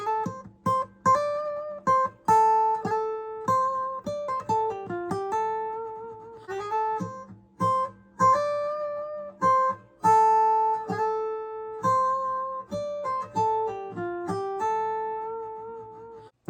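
An electric guitar plays the solo section of a song, a steady run of clean, distinct plucked notes with pull-offs and short pauses between phrases, played alone and close.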